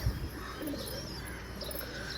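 Racing pigeons kept for breeding give soft, low cooing calls and faint chirps in a loft, steady and close, with no talk over them.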